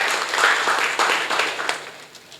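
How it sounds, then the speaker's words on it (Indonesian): Audience at an entrepreneurship seminar in Bekasi breaks into brief, dense clapping, a roomful of hands applauding together at close range and fading within a couple of seconds. "Tepuk tangan."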